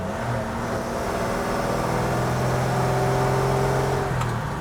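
A car engine revving up toward nearly 3,000 RPM, a steady loud droning rise in pitch heard from inside the vehicle, sustained throughout before easing off at the end.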